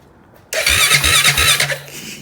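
A 2005 Honda Rubicon ATV engine cranks and catches after a short silence, then runs loud and close with an uneven, throbbing idle before easing slightly at the end.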